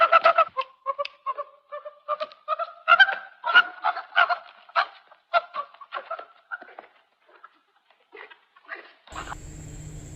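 Domestic chickens squawk and cluck in rapid, agitated bursts as one is chased and caught, the loud flurry of calls tapering into scattered cackles before a brief noisy rustle at the end.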